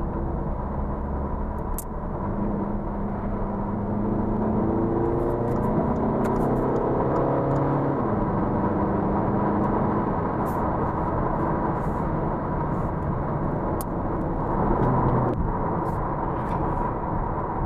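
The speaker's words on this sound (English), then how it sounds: "Changing gears using the paddle shifters makes driving this A3 a lot more fun." Engine of a 2015 Audi A3 2.0T quattro sedan with S tronic, pulling steadily through paddle-shifted gear changes, with rising harmonic sweeps of acceleration under continuous road and cabin noise.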